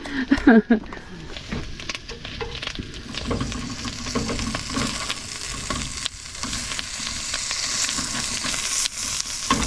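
Food sizzles steadily in a frying pan, a close, continuous crackle with stirring scrapes, and someone talks over it.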